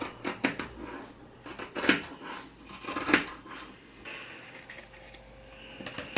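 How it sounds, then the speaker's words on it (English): Scissors snip around the edge of a fabric bag template in quick, irregular bursts of crisp cutting clicks at close range, with short pauses between strokes. "get a pair of scissors and cut all the way around the edge"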